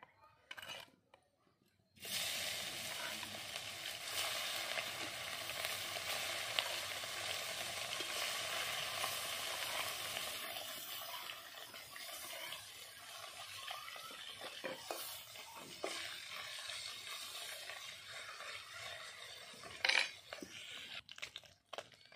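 Snakehead fish drops into hot oil and fries, a sudden burst of loud, dense crackling sizzle after a quiet start that holds steadily close by, with a few clinks and spatters.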